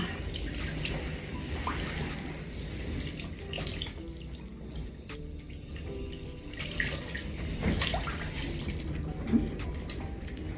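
A sponge is soaked under running tap water, a steady close splashing stream with small drips and sloshes throughout.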